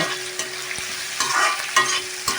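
Bitter gourd and prawns sauté in a pan: a close, steady sizzle with rhythmic spatula scrapes and knocks against the pan roughly every half second.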